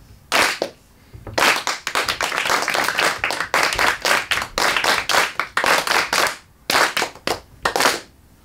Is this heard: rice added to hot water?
no